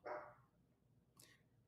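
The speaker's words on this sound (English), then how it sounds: "I'm sorry, that's my dog." A dog gives a single short bark close to the microphone at the start, followed by a fainter higher yelp a moment later, against quiet room background with no talking.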